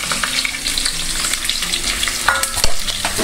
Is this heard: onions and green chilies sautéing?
yes